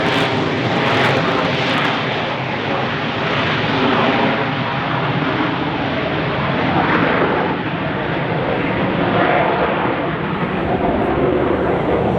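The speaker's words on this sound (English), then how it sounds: "Coming into land now. The Airbus" An Airbus airliner coming in to land at the Farnborough Airshow roars loudly and steadily with jet engine noise, a broad sustained rumble filling the whole stretch without pause.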